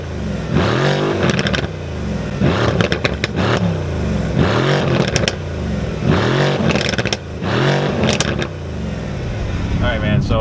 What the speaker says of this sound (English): Nothing like that V8 bi-turbo